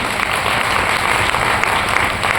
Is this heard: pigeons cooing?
no